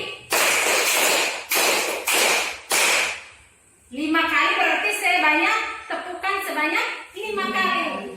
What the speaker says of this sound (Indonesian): kita beri tepukan semangat 5 kali